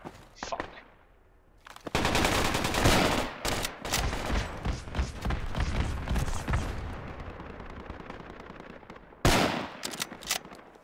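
Loud bursts of automatic gunfire from the military video game Project Reality, a short burst, then a long sustained rattling fusillade, then more sharp bursts near the end, with no talking.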